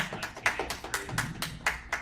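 A small crowd at an anime festival quiz show claps in a short, uneven burst of applause, the individual hand claps standing out close and sharp.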